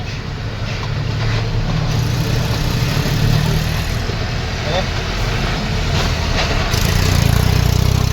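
A tractor engine idles among city traffic on a busy road in Rajkot, a steady low rumble running the whole time with continuous street noise, while someone talks over it.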